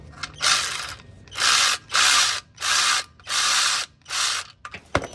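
A socket wrench ratchet loosens the drain plug on a car during an oil change, six loud close bursts of rapid clicking separated by short pauses, then a sharp knock at the end.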